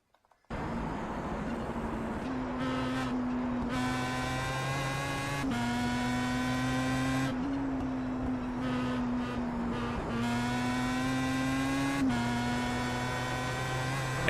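Pro Mazda race car engine held on full throttle at Lime Rock Park, a loud, steady, high-revving drone with clean harmonic whine, briefly shifting pitch at several points as gears change, continuous throughout with no talk.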